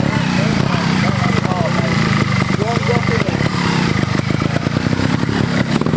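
A trials motorcycle at a competition event works over a course, its engine popping and revving in close, continuous bursts while a coach calls out encouragement over it.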